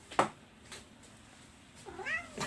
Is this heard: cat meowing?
yes